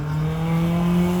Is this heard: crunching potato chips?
no